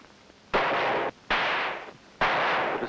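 Three loud gunshots ring out in a 1955 short drama, evenly spaced with brief gaps between them.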